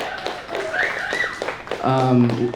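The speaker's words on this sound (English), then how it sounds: "Let's give her a round of applause" An audience at an AIGA Los Angeles design event claps for a speaker, with quick clustered taps close by. A voice talks through and after the brief applause.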